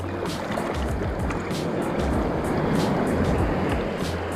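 Strong ocean surf off Hawaii, a dense, continuous wash of churning water with repeated bursts of splashing and hiss, close and loud, with no talking.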